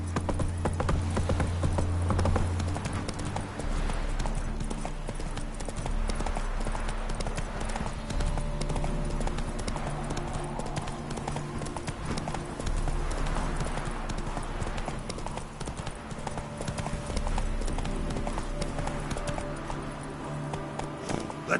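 Roach the horse gallops in The Witcher, a continuous rapid clip-clop of hooves at a steady rhythm, close and fairly even, with game music and ambience underneath.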